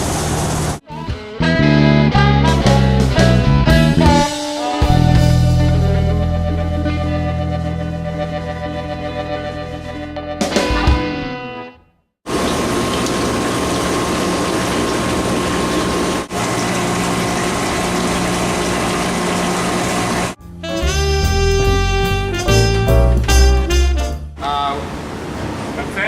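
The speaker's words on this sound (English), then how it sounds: "It's in tank, and now we're feeding the press." A winery press is fed fermented Syrah grapes at harvest, with a loud pump or motor droning and whining in long sustained tones that cut out briefly mid-way, then resume with machinery hum.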